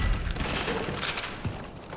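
Bursts of rapid gunfire from the video game Far Cry 4 crackle continuously, loud and close, with a heavy thump near the end and no talking.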